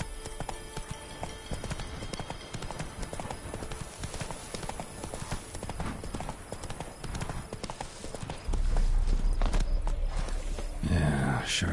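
Steady clip-clop of the horse Roach's hooves trotting through The Witcher 3, rhythmic and close throughout, with a louder low rumble swelling near the end.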